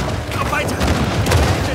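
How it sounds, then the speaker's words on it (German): Explosions erupt in the action video game Uncharted 4, a loud, continuous barrage of rumbling booms and bursts that fills the whole moment, with a couple of sharper blasts standing out. "hier explodiert ja alles"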